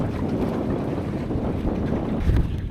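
Steady wind roars over a sailboat under brand-new sails, a continuous blustery rush with water wash beneath that swells near the end as a gust builds, loud and close with no voices.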